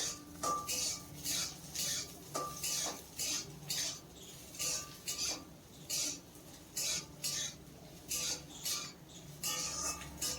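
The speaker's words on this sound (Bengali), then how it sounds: "এইভাবে অনবর্ত নাড়তে নাড়তে উচ্ছেটাকে ভেজে নেব" Bitter gourd frying in a pan is stirred continuously, a spatula scraping and clinking against the metal in regular, close bursts about once a second, with a soft sizzle underneath.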